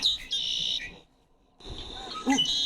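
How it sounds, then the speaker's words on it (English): A macaw parrot gives harsh, shrill calls in two bursts separated by a short silence, the second burst rising into a brief louder squawk near the end. "It's a well-known parrot that flies around. It's a macaw."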